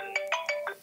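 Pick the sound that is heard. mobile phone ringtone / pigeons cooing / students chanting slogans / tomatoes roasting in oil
mobile phone ringtone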